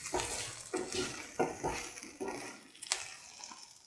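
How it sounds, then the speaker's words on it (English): Okra stew with a peanut, fennel and coriander mixture being stirred in a pot, giving a series of close scraping and clinking strokes in an uneven rhythm, with no voices. "Mix the peanut, fennel, coriander mixture into the rest of the ingredients."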